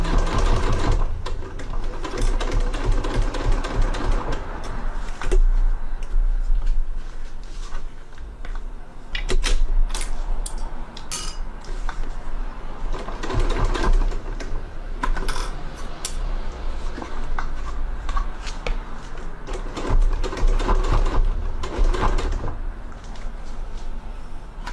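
A sewing machine stitches around a corner while the presser foot is lifted and lowered as the fabric turns. Bursts of rapid mechanical stitching are broken by short pauses and clicks, close and steady throughout.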